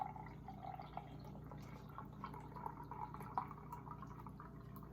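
Milk is poured into a measuring cup while baking Irish soda bread, a faint, continuous liquid trickle and gurgle against a low background hum, with no talking.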